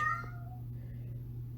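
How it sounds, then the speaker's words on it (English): A pet cat meows once, faintly, in the background near the start, over a steady low indoor hum. "You can hear my kitty in the background."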